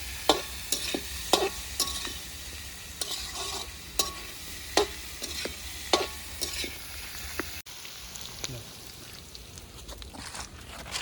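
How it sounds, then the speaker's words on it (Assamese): Pork pieces fry in a pan, a continuous sizzle broken by repeated scraping stir strokes of a utensil, close and moderately loud. "অলপ টাইম ভাজি লওঁ"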